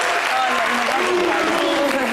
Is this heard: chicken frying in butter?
no